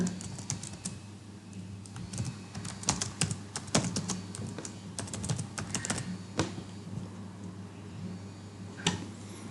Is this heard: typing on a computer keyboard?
yes